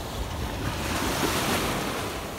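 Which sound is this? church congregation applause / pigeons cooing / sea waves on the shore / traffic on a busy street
sea waves on the shore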